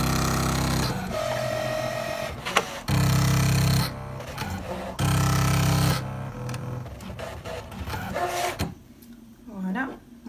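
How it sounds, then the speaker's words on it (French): A Brother ScanNCut DX cutting machine cuts a small triangle, its motor whirring and buzzing in several steady runs broken by short clicks and pauses, close and fairly loud. "je vais le mettre en marche et donc il va me découper mon petit triangle"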